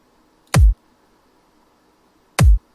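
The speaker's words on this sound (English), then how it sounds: "We'll say we get a drum kick, and this is the sound of a kick" Two deep, punchy electronic kick drum hits, about two seconds apart, each a sharp click dropping into a short booming thump, with silence between them.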